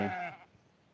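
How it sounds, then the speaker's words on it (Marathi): A single short bleat from a ewe calling for her lamb in an open field with a flock, nasal and wavering, fades out within half a second, leaving faint outdoor background. "इथं एक मेंढी कोकरासाठी ओरडत आहे"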